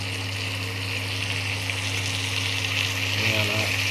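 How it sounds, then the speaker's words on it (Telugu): Chicken frying in a kadai, a steady loud sizzle with a constant hum underneath and brief stirring near the end. "చికెన్ శుభ్రం కడిగి పెట్టిన చికెన్ కడాయిలు వేసేయాలి."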